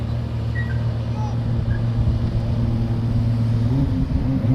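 A speedboat's engine drones steadily out on the sea off Dubai, a continuous low rumble running throughout with a slight rise in pitch near the end.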